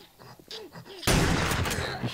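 In the zombie survival game 7 Days to Die, a shotgun goes off once with a loud blast, and the roar and debris noise linger for about a second after a quieter stretch of faint game sounds.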